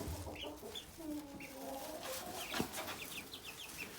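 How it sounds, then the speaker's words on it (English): Young chicks in a coop clucking and peeping softly: faint, scattered short chirps and low clucks against a hushed outdoor background. "the chicks are out in the coop, loving life"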